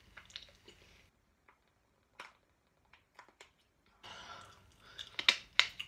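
Someone chews a chewy Twix-like candy from Israel, with close, soft squishy bites and sticky mouth sounds coming in sparse bursts between quiet pauses.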